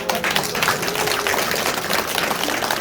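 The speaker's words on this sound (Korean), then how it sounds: "큰 박수 한번." Loud, continuous applause from an audience at a Korean election campaign office opening, many hands clapping close by in a dense steady wash, with voices faintly underneath.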